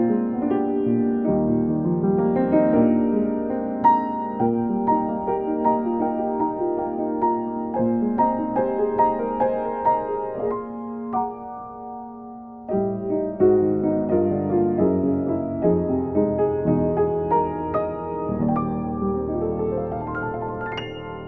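Solo piano playing an arrangement of a song, closing on the flat five and stepping down chromatically to land on the one, with flowing chords and melody at moderate volume and a brief pause midway, no voices.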